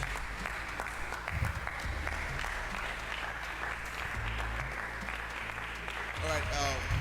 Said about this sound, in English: Please clap for them, clap for them.